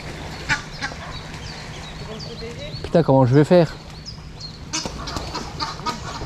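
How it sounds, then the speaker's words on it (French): A duck hooked on a fishing lure quacks in a short, loud burst of several calls near the middle, while someone talks before and after. "J'ai un canard. Ben j'ai jeté, il s'est jeté sur le leurre."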